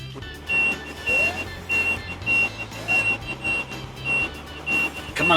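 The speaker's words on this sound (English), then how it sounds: "Apologies for the beeping, that's because these stabilizers are down." Regular electronic RV stabilizer warning beeps, about ten evenly spaced pulses, repeating because the stabilizers are down, over a low vehicle engine rumble.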